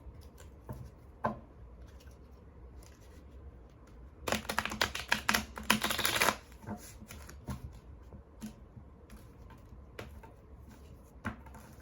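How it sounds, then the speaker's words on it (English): A deck of tarot cards is shuffled in a quick riffling burst lasting a couple of seconds, close and crisp, with scattered light taps before and after. "Shuffle it one more time."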